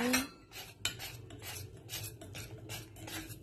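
A spoon scrapes steadily around a bowl as flour, milk and saffron milk are stirred into cake batter, producing repeated close rasping strokes in an even rhythm, with no talking.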